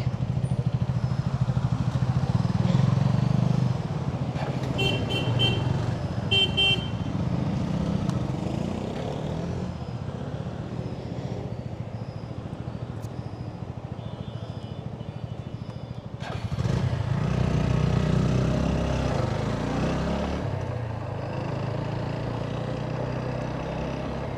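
A motorcycle rides along the Mawa-Bhanga expressway with a steady engine drone and wind rush that swell louder near the start and again later in the clip, with no voices.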